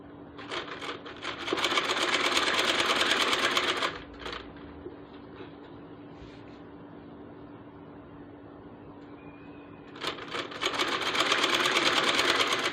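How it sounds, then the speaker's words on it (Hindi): A sewing machine stitches ribbon onto the frill of a dupatta in two loud sustained runs, at the start and again near the end, with a quieter pause of faint handling between them. "सिर्फ जो फ्रिल की सिलाई लगी हुई है सिलाई के ऊपर रिबन को सेट करते जाना है और उसके ऊपर सिलाई लगाते जाना है।"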